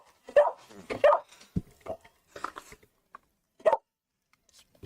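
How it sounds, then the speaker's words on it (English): Small dog whimpering and giving short yips and soft barks while sitting in a lap indoors, several separate bursts with quiet gaps between them, close by. "I got one dog in my lap, and that dog is telling me to get him off my lap because she is not happy"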